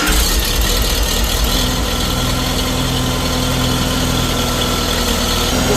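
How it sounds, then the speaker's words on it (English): A Farmall Super C tractor engine starts and settles into a steady, loud idle with a constant low mechanical rumble and vibration, close by, on a snowy day. "I'm going to turn the tractor on"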